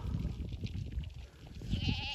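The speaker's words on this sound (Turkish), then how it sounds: "Kuzu sürüsü, kuzu sayısı kalabalık olmazsa içinde koyunlar çeker getirir." A flock of lambs and sheep bleats on a Nurhak mountain slope, the calls faint and distant over steady wind-like rumble for about two seconds.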